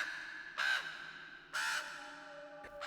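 Two loud, harsh crow caws about a second apart, close and clear over a faint steady background hum, with no voices.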